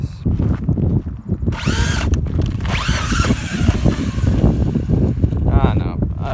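A flipped RC car using its self-righting mode, its electric motor and gears whining in loud, rising and falling bursts close by, with a person talking over it at times.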